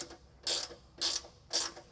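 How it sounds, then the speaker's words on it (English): A 12-point ratcheting wrench turns a tap during a Toyota Tacoma rock slider install, giving three distinct bursts of rapid ratchet clicking, evenly spaced and close up, with quiet gaps between strokes. "I found a 12-point ratcheting wrench that fits this size tap really easily"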